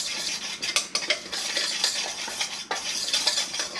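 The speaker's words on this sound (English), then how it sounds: "Mix it up one more time so you get a good mixture of stuff." A utensil scrapes and stirs through a cheesesteak mixture of meat and spices in a pan, a steady busy rustle with clinks and scraping strokes, close and continuous.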